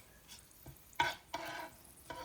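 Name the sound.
cumin frying in a pan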